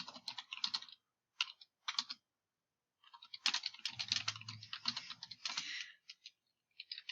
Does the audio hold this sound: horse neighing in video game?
no